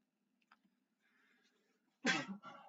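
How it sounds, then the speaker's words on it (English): A single sharp sneeze bursts out after a near-silent stretch with faint breathing, close and sudden, followed by a brief trailing sound. "I had to sneeze there for a minute"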